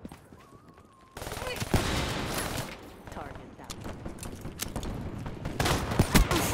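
Rapid sniper rifle gunfire from Call of Duty Black Ops 3 gameplay, loud sharp shots in dense bursts over busy game noise, with a voice talking in the first second.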